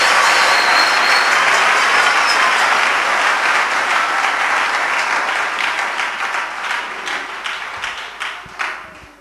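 A church congregation claps and cheers for Jesus Christ at a jubilee service, loud dense applause that holds steady, then breaks into scattered separate claps toward the end.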